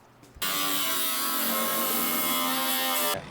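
A power saw cuts through the sheet metal of a Dentside Ford truck bed, a loud, steady, whining burst of about three seconds that starts and stops abruptly.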